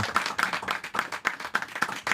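Live concert audience in Slovenia clapping after a song, a loose, rhythmic patter of many hands at close range, steady and moderately loud throughout, with no voices over it.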